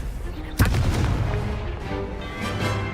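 A Confringo fire blast spell explodes in Hogwarts Legacy, a single sharp boom bursting out near and loud, then a rumbling, crackling tail that lingers over a dense, busy game soundscape.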